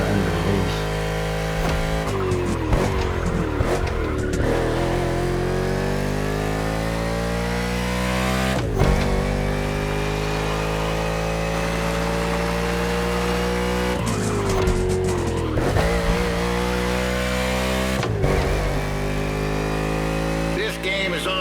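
Race car engine in a NASCAR event in the video game The Crew Motorfest, a loud sustained roar with harmonic revs rising and falling, gear shifts and tire squeals throughout, alone with no talk.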